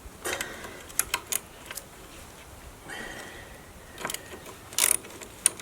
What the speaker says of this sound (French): on va dévisser les écrous. La clé à douille de 17.